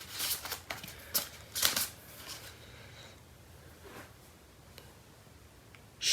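Plastic packaging rustles and crinkles while a Magic Keyboard for the iPad Pro is unboxed: a few close, crisp bursts of crackling at the start, then quieter sporadic handling, and a last crinkle at the end.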